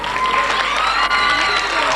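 A school audience claps for the teachers at an annual prize distribution, a dense steady wash of applause with some cheering from the crowd, loud and continuous throughout.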